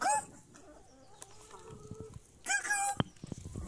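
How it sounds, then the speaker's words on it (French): Backyard chickens cluck in short, close bursts, with quieter stretches between the calls and a louder flurry near the end, while a person talks softly in French among them. "Ça, c'est mes poules."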